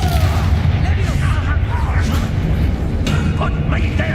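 A Bombarda spell blasts in the video game Hogwarts Legacy: a loud, continuous booming explosion with crackling debris, layered over dense battle noise and shouted voices.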